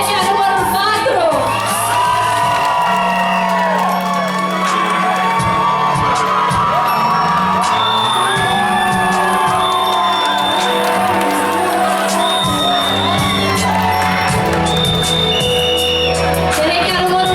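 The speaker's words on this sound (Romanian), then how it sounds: "Aplauze pentru perechea numărul 4!" A loud pageant crowd at a high school contest keeps up sustained cheering, whooping and shouting with applause for a couple on stage, a dense roar that never lets up.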